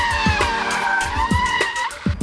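A car brakes hard on surfaces with different grip under its left and right wheels and skids into a spin. Repeated loud tyre squeals and scrubbing bursts sound close over a steady engine tone, with no talking.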